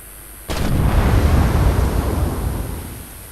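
Naval gunfire from enemy cruisers in War Thunder, a sudden heavy cannon blast with a booming low-end roar that rolls on and slowly decays over several seconds, loud and close.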